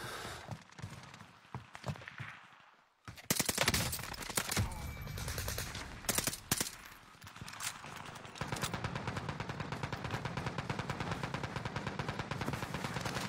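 Gunfire in Call of Duty: Warzone, repeated loud bursts of shots with a short lull, then sustained rapid automatic fire that runs to the end of the clip.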